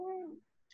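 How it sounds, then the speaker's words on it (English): A single close cat meow, a harmonic cry drawn out and falling in pitch, followed by a short faint high chirp. "I think that's one of your cats."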